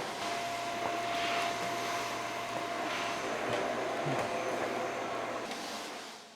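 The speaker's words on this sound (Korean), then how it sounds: "아이들에겐 청소기도 좋은 장난감입니다." A household vacuum cleaner drones steadily indoors at a family home, a continuous mid-level whine and rush with faint knocks and clatter around it, constant throughout.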